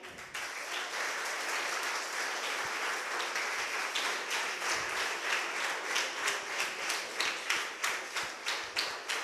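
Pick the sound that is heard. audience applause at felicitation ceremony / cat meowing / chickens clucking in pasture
audience applause at felicitation ceremony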